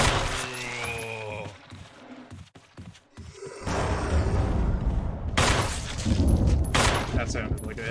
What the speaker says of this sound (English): That sounded like a headshot.